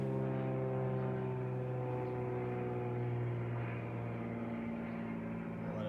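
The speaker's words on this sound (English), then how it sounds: "Stupid plane." An airplane drones steadily overhead, a constant low hum with engine tones that holds for several seconds, fairly faint and heard alone outdoors at a trad climbing spot.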